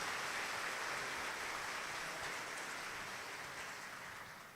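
A church congregation applauding during a Mass for the sick, with dense, sustained clapping that fills the space and gradually fades toward the end, and no voices over it.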